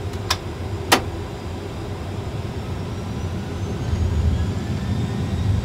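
In an Airbus A320 full flight simulator after landing, a couple of sharp clicks come first, then a low engine roar from the thrust reversers swells and holds toward the end.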